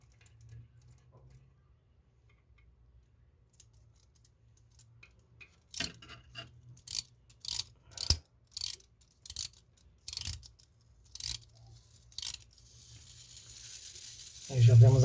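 A wound antique Italian Veglia alarm clock movement runs on a workbench, giving a steady series of distinct close ticks at a regular pace after a quiet stretch, with handling noise rising at the end.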